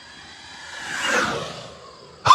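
An FMS Avanti S V3 70mm electric ducted-fan RC jet makes a rising then falling whoosh as it pulls out of a pass, followed by a brief loud burst at the end.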